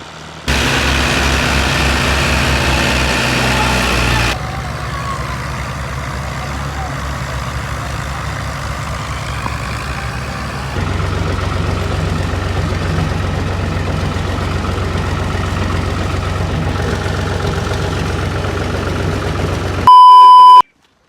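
A heavy tractor engine idles with a steady low diesel rumble, its tone shifting a few times, ending with a short electronic beep.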